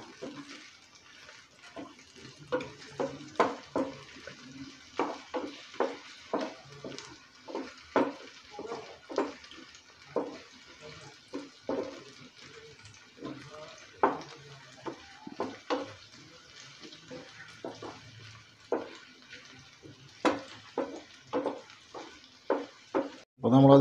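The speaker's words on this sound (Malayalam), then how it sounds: "അപ്പോൾ നമ്മളെ അതിലേക്ക് വറ്റൽമുളക് കൂടി ഇട്ട് കൊടുക്കാം കേട്ടോ നമുക്ക്. എല്ലാം കൂടി നമുക്ക് ചൂടാക്കി എടുക്കണം." Dried red chillies frying in oil in a pan for a Kerala-style mackerel chilli fish curry, a steady close sizzle broken by frequent short clatters and scrapes of stirring throughout.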